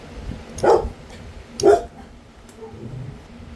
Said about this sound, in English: Them dogs were going to start barking.